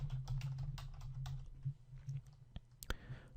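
Rapid keystrokes on a computer keyboard while code for a web checkout form is entered, a quick run of close, crisp clicks that thins out into a few scattered taps over a low steady hum.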